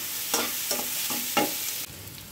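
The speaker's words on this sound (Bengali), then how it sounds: "এবার সুন্দর করে একটু ভাজা ভাজা করব" Potatoes frying in hot oil for a doi katla fish curry, a steady sizzle broken by four sharp scraping stirs in the pan, with the hiss dropping slightly near the end.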